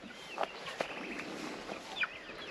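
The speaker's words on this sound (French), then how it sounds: "Là j'ai ma viandotte qui est là-bas, la poule elle est belle celle-là" A Wyandotte hen clucks softly in a chicken coop, a few brief scattered clucks over a faint steady background hum.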